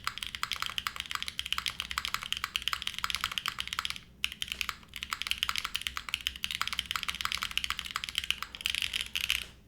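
Rapid, continuous clacking of a Mode Envoy mechanical keyboard being typed on, dense keystrokes close up with two brief pauses, no voices.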